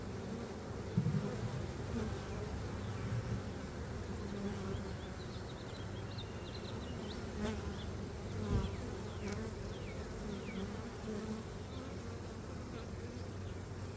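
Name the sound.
honey bee swarm buzzing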